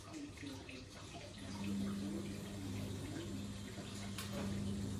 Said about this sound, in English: You see the water going through, guys, driving the wheels for all the power for the mill.